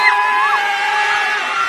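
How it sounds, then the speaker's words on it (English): A packed NFL stadium crowd at a playoff game roars and screams, a loud, sustained wall of voices with high shrieks riding over it, lasting under two seconds. "the crowd's going to be either doing this"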